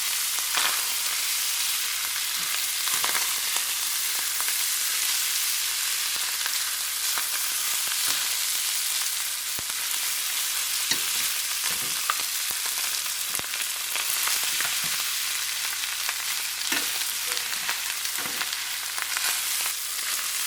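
Chicken garlic butter fried rice with frozen peas stirred in a hot pan, a loud continuous sizzle with scattered soft scrapes and taps of the spatula throughout.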